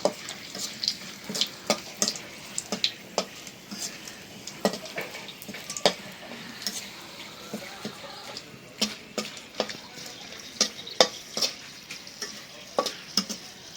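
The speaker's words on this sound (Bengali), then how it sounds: "হয়ে গেল শুকনা মরিচ ভাজা, উঠে দিই।" Dried red chilies frying in hot oil in a pan before hilsa fish is fried, with a steady sizzle and frequent sharp spatula clicks and scrapes throughout, close by and without talk.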